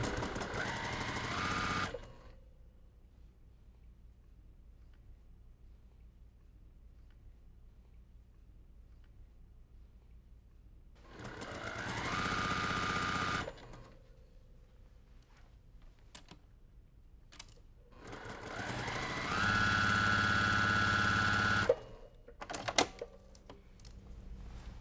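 Home sewing machine stitching a quilt block from jelly roll strips in three separate bursts of about two seconds each, steady and close, with quiet pauses and a few handling clicks between runs.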